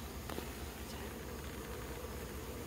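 Wasps buzzing inside a homemade trap built from an air fryer, a constant soft droning hum heard close with no talking.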